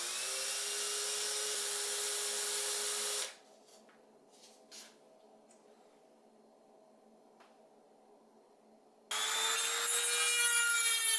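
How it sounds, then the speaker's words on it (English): Brass parts for a turned wooden box lid being sanded, a steady loud abrasive rubbing at the start and end with a quieter stretch of faint scraping and taps in between. "The brass parts didn't have the best finish, so I'll sand them to make them nice and shiny"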